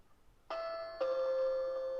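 A Dzees smart WiFi video doorbell chime sounds indoors, two clean electronic tones in quick succession, the second one sustained and ringing on, close and clear against quiet background.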